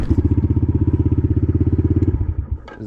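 A pit bike's small single-cylinder engine idling close by with a rapid, even putter that fades out near the end, followed by a short noise.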